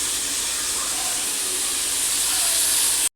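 Potatoes frying in a pan for a home-cooked mutton lunch give a steady, dense sizzle, a broad hiss that runs unbroken and close for about three seconds before cutting off abruptly.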